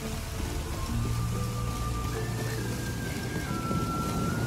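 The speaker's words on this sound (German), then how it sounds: "Sieht nach Regen aus." Steady rain pours down in The Witcher 3: Wild Hunt, a dense continuous hiss under a faint low musical drone.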